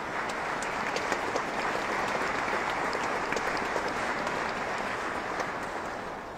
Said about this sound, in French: Et vous avez applaudi au passage Florence Berthou.